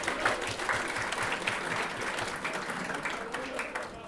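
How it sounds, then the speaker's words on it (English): An awards night audience applauds, a continuous wash of many hands clapping at moderate distance, with a few louder nearby claps, fading slightly toward the end. "Yeah, you can clap them."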